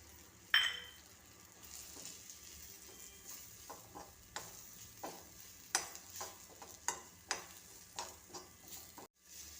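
Dates are stirred into a masala paste in a pan as a pickle is cooked, giving a steady soft sizzle under repeated scraping and clinking strokes of a spoon, fairly close and without talk.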